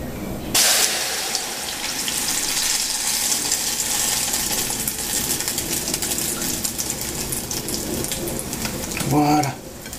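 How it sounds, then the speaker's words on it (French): Makoud egg mixture poured into smoking hot oil in a pan, bursting into a loud, steady sizzle and crackle that holds for the whole stretch, with a brief clatter near the end. "Je vais pouvoir verser ma préparation à l'intérieur."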